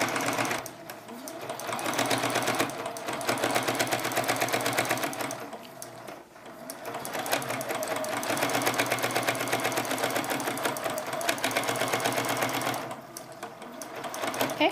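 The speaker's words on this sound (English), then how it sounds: "And you're going to just finish off sewing down that edge, and then just do a back stitch" A sewing machine stitches down a quilt binding edge in long, steady whirring runs, near and loud, broken by brief pauses before the motor starts again.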